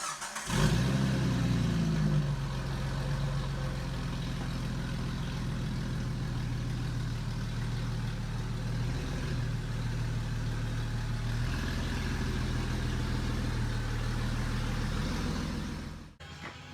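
Jeep TJ pulling in, a steady low engine rumble running close and constant for most of the stretch before cutting off abruptly near the end, no talk.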